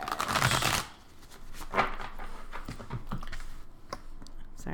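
Tarot cards shuffled by hand in a dense burst of crisp riffling at the start, followed by scattered lighter card taps and soft handling sounds, close and fairly quiet.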